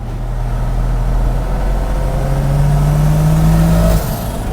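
A Holden Gemini turbo street car engine revs steadily, a loud low drone whose pitch climbs gradually before cutting off abruptly near the end.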